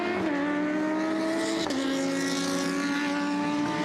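GT race cars, including Porsche number 38, racing in a GT Cup class endurance event at Most, with a loud, continuous high-revving engine note that drops with a gear change, close to the track and with no talk.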